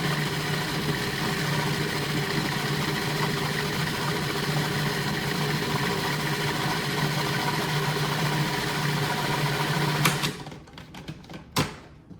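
A blender whirs loudly and continuously as it purees cashew cheese with roasted red pepper and yeast, then cuts off near the end, leaving a few clunks and rattles.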